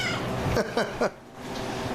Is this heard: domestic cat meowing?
yes